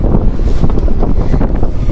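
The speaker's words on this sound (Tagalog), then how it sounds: "Kasi lakas ng hangin" Steady, loud mountain wind buffeting the microphone at an alpine coaster in Vietnam, a continuous low roar with gusty rumble and no voices.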